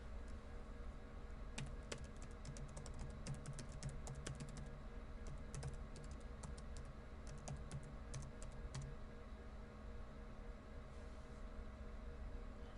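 Computer keyboard typing in bursts of quick clicks, close but fairly quiet over a steady low hum, with pauses between runs of keystrokes.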